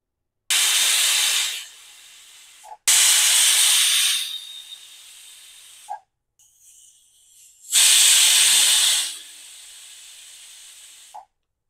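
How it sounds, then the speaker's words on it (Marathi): A pressure cooker holding tomatoes for cream of tomato soup lets out three loud, close whistles, each a sharp hissing blast that tapers off, with short quiet gaps between. "इथे आपल्या कुकरच्या 3 शिट्ट्या झाल्यात"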